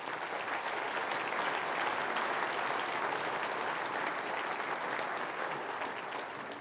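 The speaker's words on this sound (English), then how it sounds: "Please give him a round of applause." A political audience at a provincial State of the Province address breaks into sustained, dense applause, a loud even wash of many hands clapping throughout with no gaps.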